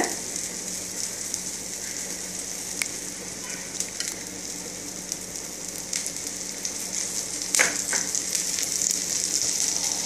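Adai batter fries in oil on an iron griddle, a close, even sizzle and crackle that holds for the whole stretch, with a couple of sharp spatters and light scraping.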